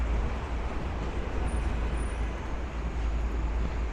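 Street traffic on McDonald Avenue in Brooklyn on a rainy day under elevated train tracks, heard as a steady low roar of passing vehicles and wet road noise with no distinct events.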